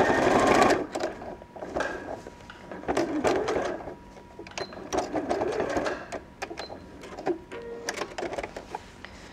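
A sewing machine stitches fabric for an overnight bag in short bursts of rapid, even whirring, stopping and restarting close by, with small clicks and handling noises between runs.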